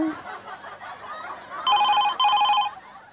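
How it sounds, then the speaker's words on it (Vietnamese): A telephone rings on a TV quiz show set during a phone-a-friend lifeline call, two loud bursts of electronic trilling close together after a short stretch of low background sound. "Tôi sẽ gọi cho em gái ruột của tôi, Lan Chi."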